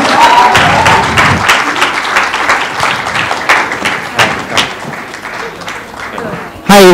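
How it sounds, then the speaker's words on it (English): Loud audience applause and clapping fill a film game launch event for Bombay Velvet with Ranbir Kapoor and Anushka Sharma, continuing steadily before cutting off abruptly. "give them a big round of applause"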